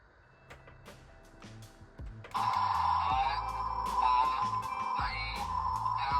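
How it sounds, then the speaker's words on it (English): A Transformers Omega Supreme toy plays electronic countdown beeps, then a loud, sustained synthetic blast effect with more beeping on top, heard up close with no talking. "which also has a countdown timer apparently, and some blast effect sounds"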